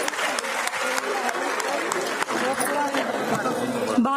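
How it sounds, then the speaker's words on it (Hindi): Steady applause from an audience at a women's conference in Panchkula, Haryana, continuous and fairly dense, with crowd chatter mixed in. "जोरदार तालियां हमारी बहन के लिए।"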